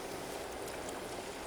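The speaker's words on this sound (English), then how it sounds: "And a little water." Water pours steadily into a saucepan of soy-sauce-seasoned cooking, a continuous close splashing trickle with no talk.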